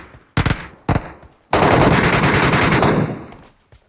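Gunfire in PUBG Metro Royale: two short bursts followed by a long, loud sustained burst of automatic fire that empties a full magazine, then tails off into quiet.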